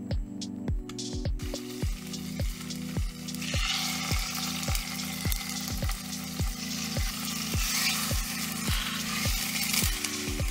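Tofu pan-fries in sesame oil, a steady close sizzle with a rapid, regular series of clicking pops running throughout and a brief clatter at the start; no one speaks.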